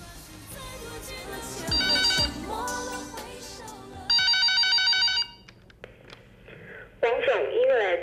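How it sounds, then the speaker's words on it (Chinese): A telephone rings in a drama scene, its bright electronic bell sounding in repeated bursts separated by short gaps, loud and close, with other sounds in between. "王总医院来的电话，是位丁小姐。"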